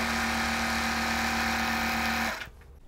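A sewing machine stitching jelly roll quilt strips with a quarter inch seam hums in a loud, even run with a steady motor tone, then winds down and stops near the end.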